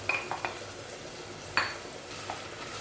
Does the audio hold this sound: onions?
yes